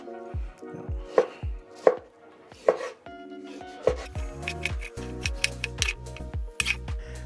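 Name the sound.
chopping tomatoes into cubes on a board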